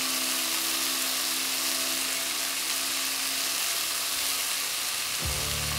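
Onions and mushrooms sauté in olive oil over a fire on a Weber grill, a steady close sizzle and hiss running unbroken with a low hum beneath, the tone shifting slightly near the end.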